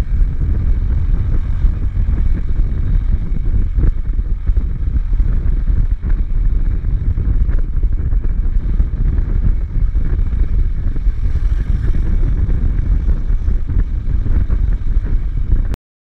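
Heavy wind buffets the microphone during a motorbike ride on a highway, a loud continuous low roar with engine noise underneath, ending abruptly.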